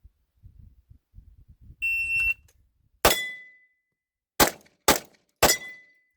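Glock pistol fitted with a pure tungsten guide rod fires a few sharp shots, each followed by a bright metallic ring from a steel target: one report, then a quick cluster of three, loud and close.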